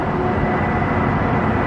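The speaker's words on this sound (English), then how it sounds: "It's a bigger plane than the last one we just saw." A large passenger plane passes overhead with a loud, steady roar of jet engines that fills the whole stretch without a break.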